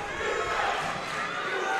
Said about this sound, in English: Clairton crowd back into this one.